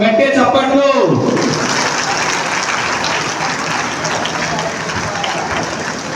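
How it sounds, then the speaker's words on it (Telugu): Audience applause fills a hall at a public event welcoming police officials to the stage, a voice briefly heard at the start before sustained, even clapping continues. "గట్టిగా చప్పట్లు"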